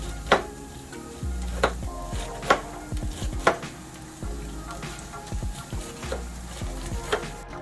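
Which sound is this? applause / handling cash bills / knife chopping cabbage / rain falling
knife chopping cabbage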